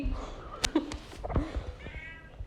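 A pet cat meows close up, a few short plaintive calls in quick succession, one rising and drawn out, with soft household noise around them.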